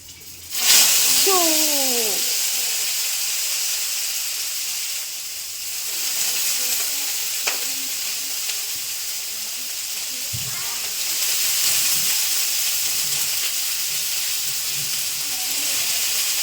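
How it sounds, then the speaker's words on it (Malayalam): Mustard seeds, garlic and dried red chillies fry in hot oil with a steady hiss and sizzle that runs throughout, and a voice is briefly heard near the start. "ഫോൺ എടുത്തിട്ട് അതിന് കടുക് പൊട്ടിയ ശേഷം വെളുത്തുള്ളിയും വറ്റൽ മുളകും ഇട്ടു."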